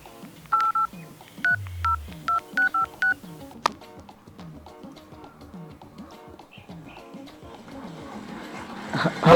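Telephone keypad tones beep in a quick series of about eight short presses, clear and close, followed by a faint ringing line with background noise.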